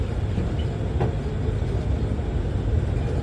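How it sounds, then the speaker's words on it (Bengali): The Sundarban Express passenger train runs near Bhanga station in Bangladesh, a steady low rumble of wheels and carriages rolling continuously, with no talk over it. "এবার আমাদের সুন্দরবন এক্সপ্রেসও কিন্তু রাজধানী ঢাকার উদ্দেশ্যে ছেড়ে যাচ্ছে"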